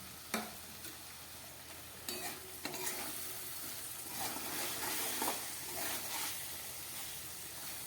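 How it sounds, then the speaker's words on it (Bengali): Fried eggplant being stirred into a cooked-down spice paste in a pan, with a soft continuous sizzle, scraping stir sounds and a few sharp utensil clinks up close; no talking. "এবার আমি এই মশলার মধ্যে এই বেগুনগুলো দিয়ে দিচ্ছি, ভেজে রাখা।"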